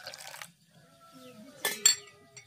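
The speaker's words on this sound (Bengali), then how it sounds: "এবার এর মধ্যে দিয়ে দিচ্ছি 1 কাপ পরিমাণে দুধ।" A cup of milk poured into mashed chhena in a bowl for a mango sandesh, a brief liquid splash with light clinks of glass and utensils, quiet and close.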